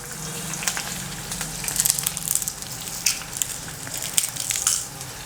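Crushed garlic sizzles in hot oil in a pan while it is stirred for a drumstick leaf thoran, a steady crackling fry broken by sharp spatters and light scraping, close and without talk.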